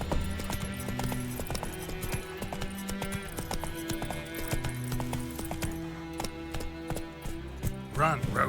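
Horse hooves pounding in a fast gallop in the video game The Witcher 3, a rhythmic clip-clop over game music with a brief voice near the end.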